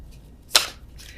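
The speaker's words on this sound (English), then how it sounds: "I cannot shuffle these cards, so if you're watching, you can laugh." Tarot cards riffled in a single quick shuffle, a short crisp burst of papery flutter, close and fairly loud against a quiet room, followed by a faint softer rustle.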